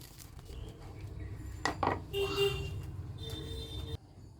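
A knife cuts through an egg and vegetable sandwich on a board, giving a couple of short crunchy slices and scrapes near the middle, close and fairly quiet over a low background hum.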